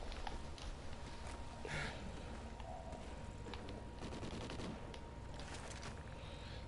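Video game gunfire aimed at eggs: scattered bursts of sharp shots and rapid cracks crowd together over a few seconds, fairly faint with background game noise.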